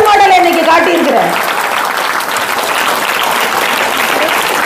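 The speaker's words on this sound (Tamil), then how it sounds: "ஸோ நீங்களே பெருசாக கைத்தட்டிக்கோங்க." A school audience claps loudly and continuously, a dense wash of applause that starts with a voice trailing off underneath and keeps going to the end.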